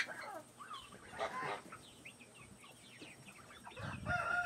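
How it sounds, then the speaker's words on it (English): A little white naked neck rooster crows and clucks in short, near bursts, faint and alone against quiet background noise. "there's my little white naked neck rooster"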